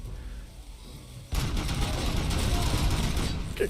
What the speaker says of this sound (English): I think I heard like 3 or 4 M203s, like fa-dunk, fa-dunk, fa-dunk.